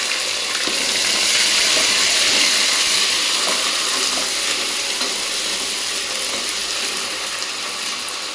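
Onions fry with ginger-garlic paste and spices for vegetable khichuri, a loud, steady, dense sizzle that stays close and continuous throughout, with faint clinks of stirring.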